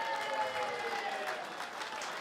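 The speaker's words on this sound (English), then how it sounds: "Come on, a big round of applause for Mr. and Mrs. Hauton." Wedding guests applauding the bride and groom at a reception, steady crowd clapping filling the room throughout, moderately loud, with some faint voices mixed in.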